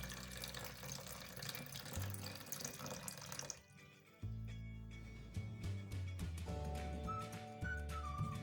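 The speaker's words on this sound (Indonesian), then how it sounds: "Kemudian kita tuang airnya semua di dalam." Water being poured into a container for martabak batter, a steady close stream and splash that briefly stops and then resumes with a shifting, fuller gurgle as the vessel fills.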